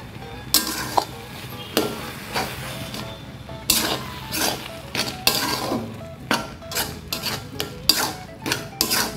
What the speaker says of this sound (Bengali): চিংড়ি বাটাটাকে এর মধ্যে মিশিয়ে দেব, সুন্দর করে মিশিয়ে দিতে হবে।